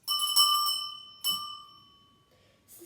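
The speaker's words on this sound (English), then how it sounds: "A bell from Switzerland. Let's listen to the sound that it makes." Two clear strikes on a Swiss bell ring out close and bright, the second landing just over a second after the first, each tone lingering and fading away.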